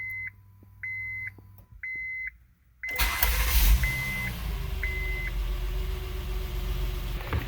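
A car engine cranks and catches on its first start after new spark plugs were fitted to fix a cylinder misfire, then settles into a steady idle, preceded by several repeated electronic chimes from the dashboard.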